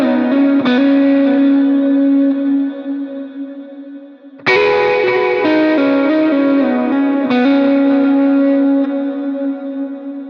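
Distorted electric guitar plays a song's lead line: a sustained bent note, then a fresh attack near the middle and a few quick picked and hammered notes, wet with chorus and echo, loud and alone.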